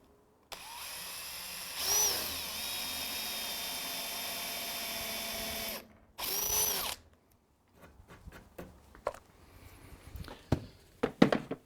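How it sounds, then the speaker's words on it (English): A power drill bores vertical holes into the top of a timber fence, running in a long steady whine, pausing, then a short second burst, followed by scattered knocks and footsteps. "just drill vertical holes down into the top of the timber fence"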